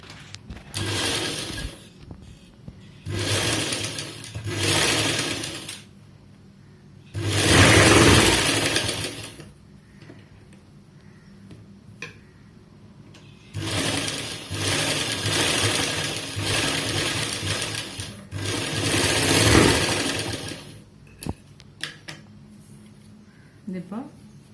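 A double sewing machine stitches a cloth face mask in several separate bursts of a few seconds each, close and buzzing, with pauses and soft handling noises between runs.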